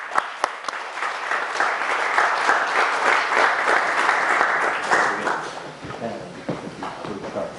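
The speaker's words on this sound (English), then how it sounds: "Let's do a nice, loud round of applause for Rabbi Alon Anava, please." An audience at an evening talk gives a sustained round of applause, dense clapping swelling and then thinning out, with voices faintly beneath it.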